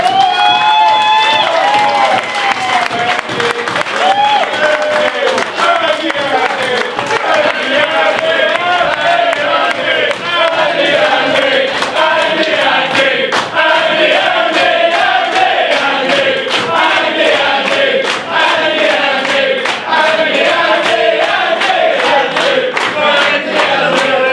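A crowd at an end-of-season award show applauds and cheers loudly and steadily for a player, dense clapping with shouts and whoops throughout, voices calling over the noise.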